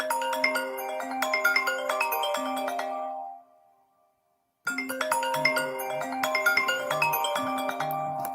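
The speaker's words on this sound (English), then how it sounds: "That's my phone." A new 5G iPhone rings with an electronic melodic ringtone, loud and close, playing a phrase, pausing in silence for about a second, then repeating.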